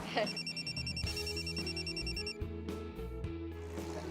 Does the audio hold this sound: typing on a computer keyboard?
no